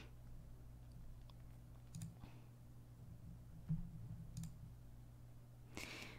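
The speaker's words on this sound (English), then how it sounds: "so I'm just clicking around a little bit." Sparse computer mouse clicks, soft and close, sound a few at a time over a low steady room hum, with quiet gaps between them.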